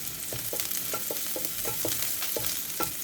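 Onion and ginger sautéing in a pan for sinigang, a steady sizzle broken by rhythmic scraping strokes of a spatula stirring about three times a second, close and alone.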